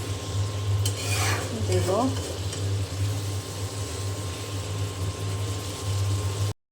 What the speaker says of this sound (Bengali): এখন মশলার সঙ্গে খুব ভালো করে নিয়ে নেড়ে সেড়ে